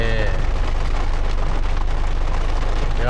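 Steady heavy rain pours down at a campsite in a national park, a dense continuous patter with a low rumbling undertone.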